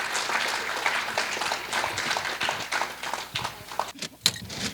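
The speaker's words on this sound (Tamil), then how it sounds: "எல்லாரும் ஒரு பலத்த கைத்தட்டல் குழந்தைங்களுக்கு." Parents and families clap for the children after a kids' song competition at a Tamil school Pongal festival in New Jersey, a soft, scattered patter of hands in a hall that thins out toward the end.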